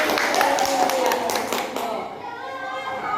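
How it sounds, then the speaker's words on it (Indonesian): A class of children claps for a classmate in a school classroom, a brief burst of quick, uneven hand claps that fades out after about two seconds while voices murmur underneath. "tepuk tangan buat Rufeni"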